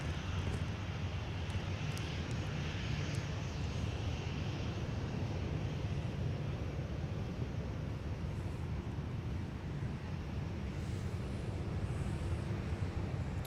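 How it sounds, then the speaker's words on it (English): A Delta airliner taxis at MSP International Airport, its jet engines producing a continuous broad roar heard from a distance outdoors with some wind noise, steady throughout. "There's another Delta flight taxiing by"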